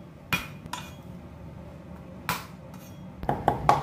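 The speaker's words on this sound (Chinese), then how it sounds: "然后我们再来拍一点大蒜" A cleaver smacks garlic cloves on a kitchen board in a few sharp, separate knocks with pauses between, then a quicker cluster of hits with light metallic clinks, close and fairly quiet.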